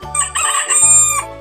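A rooster crows loudly and close, one full cock-a-doodle-doo call standing alone.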